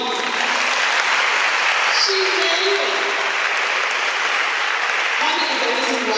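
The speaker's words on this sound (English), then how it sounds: "let's give a round of applause" A crowd at a community talk on menstrual hygiene and sexual abuse claps steadily and fairly loudly for the whole stretch, with a brief spoken remark rising above the applause.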